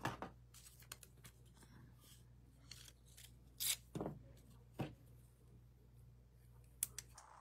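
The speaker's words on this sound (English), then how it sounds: "we're gonna take this ribbon again and trim it here." Scissors trim a length of ribbon while someone makes cards, giving a few soft snips and small clicks scattered over quiet room tone, faint and close, with no voices.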